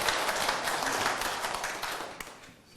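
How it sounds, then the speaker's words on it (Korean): Audience applause at a Korean Buddhist talk event, a loud, dense burst of many people clapping close by, sustained briefly before thinning out toward the end. "박수 한번 부탁드립니다"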